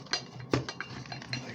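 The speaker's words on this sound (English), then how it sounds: "Now you simply pry the two halves apart here" Plastic halves of a 2004 Nissan Murano instrument cluster being pried apart, giving close clicky snaps and ratcheting creaks with one sharper crack partway through.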